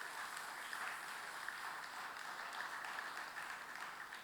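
A church congregation claps steadily in praise: a continuous, even patter of many hands, faint and distant, with no voices over it.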